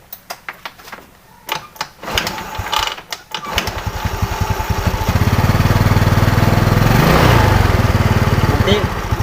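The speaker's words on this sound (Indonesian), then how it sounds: "tiba-tiba berebet setengah gas" Yamaha Mio Sporty motorcycle with a faulty carburetor, its engine first stuttering in uneven bursts, then revving up into a loud sustained buzz that wavers and surges, recorded up close.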